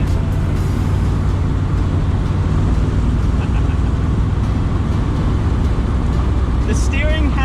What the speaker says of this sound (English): I enjoy driving this car.